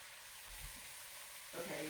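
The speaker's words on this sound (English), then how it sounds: "Can you hear the sizzling of the meat?" Pork tenderloin with onion sizzles quietly in a pan, a faint, steady hiss that swells slightly near the end.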